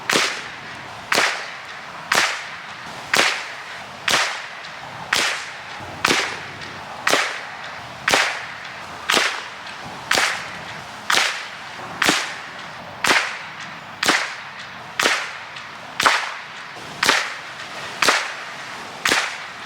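Repeated sharp .22LR rifle shots fired at targets in gusty wind, about fourteen evenly spaced cracks roughly every 1.3 seconds, each a hard snap with a short decay, no talking.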